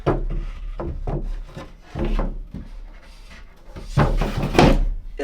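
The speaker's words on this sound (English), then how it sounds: "Put this drawer back in." A homemade wooden drawer for a DIY window seat cabinet slides and rubs along its runners with scraping, knocking wood sounds, ending in a couple of louder bumps as it seats.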